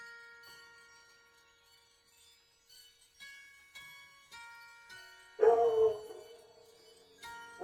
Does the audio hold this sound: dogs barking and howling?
yes